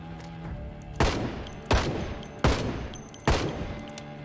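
A rifle fires in a video game during a zombie horde, four loud, sharp gunshots spaced roughly three-quarters of a second apart, each with a short decaying tail over quieter game ambience.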